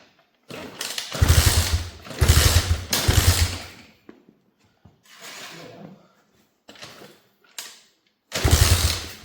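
A fake Yamaha pit bike engine, air filter's outer layer removed, sputters to life in short bursts: several loud, uneven running spells broken by gaps, each catching and dying before a final burst.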